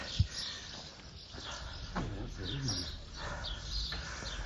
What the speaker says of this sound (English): tweeting all the way down the street.